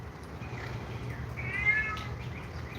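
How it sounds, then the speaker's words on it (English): Cats let out a couple of close meows over a rough, noisy background in the rain, the clearest cry coming about halfway through. "There's too many damn daggone cats."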